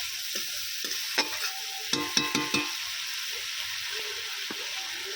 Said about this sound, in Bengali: টমেটম পেস্টটা দিয়েও খুব ভালো করে আবার একটু নেড়ে নেবো